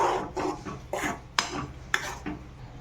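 Spices being mixed in a pan for chutney: a spoon scrapes and clinks against the pan in about six separate strokes, close and fairly quiet.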